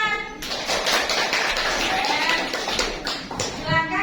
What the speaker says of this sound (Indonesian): Beri tepuk buat kelompok Abu Bakar.